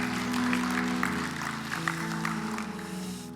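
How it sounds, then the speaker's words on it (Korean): A church congregation at a Sunday service in Southern California claps in welcome, a broad continuous patter of many hands over a steady low sustained tone, probably an organ or keyboard, with no speech on top. "우리 다시 한번 힘찬 환영의 박수 부탁드리겠습니다"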